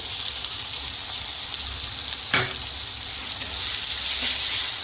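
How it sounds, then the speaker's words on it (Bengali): Chopped tomatoes fry with onion and spices in a pan for a soybean curry, giving a steady, close, rain-like sizzle with a single soft clack midway. "টমেটো কুচিটাকে একটু ভেজে নেবো এর সাথে, মশলার সাথে।"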